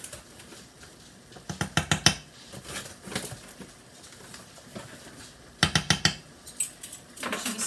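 Beef pasta sauce stirred in a pan with a utensil, giving bursts of quick scraping, clinking strokes in two clusters separated by quieter stretches, close and fairly faint, no talk.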